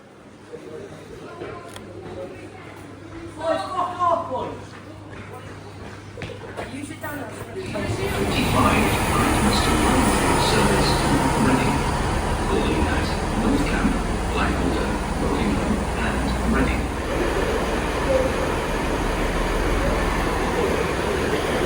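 A Great Western Railway train rumbles loudly and continuously along the tracks, a broad roar that swells in and holds steady after a few seconds of quieter talking.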